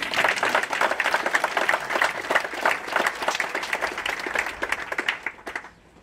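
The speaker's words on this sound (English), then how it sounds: "Can we all give them a big round of applause?" Crowd applause at an outdoor ribbon-cutting ceremony for a housing village, dense clapping that continues evenly for about five seconds and then fades out.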